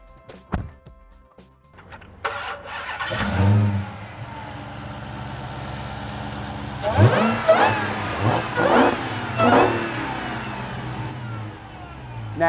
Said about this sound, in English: How about you start it up for us? Let's hear what this Charger sounds like.